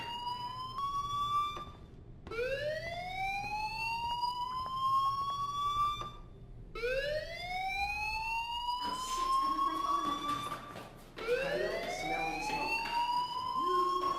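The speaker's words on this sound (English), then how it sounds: "do you hear that fire alarm? That means you should be outside." Fire alarm ringing in the video game Life is Strange, a repeating rising electronic whoop that sweeps upward in cycles every few seconds, moderately loud and alone, with a brief noisy burst partway through.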